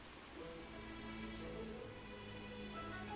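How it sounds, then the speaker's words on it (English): Steady rain falling on surfaces in a rainy level of the video game A Hat in Time, a constant hissing patter with a faint musical tone beneath it, quiet and unbroken throughout. "So this is going to be another rainy level"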